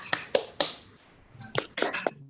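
Children in a classroom clap out the PPK routine, a quiet, quick run of about eight sharp hand claps in an uneven rhythm, with faint voices.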